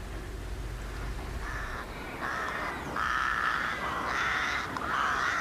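Crows caw repeatedly at daybreak in a Sherlock Holmes radio drama, the harsh calls coming in a regular series that grows louder and nearer over a low rumbling ambience.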